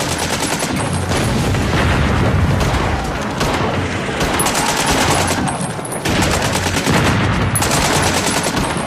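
Dense, sustained heavy gunfire of trench warfare crossing no man's land, with rapid machine-gun bursts and booming shots filling the whole span, loud and continuous with no speech.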